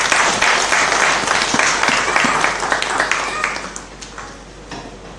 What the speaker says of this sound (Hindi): हामी सबैजना ताली बजाएर उहाँलाई स्वागत गर्नेछौँ।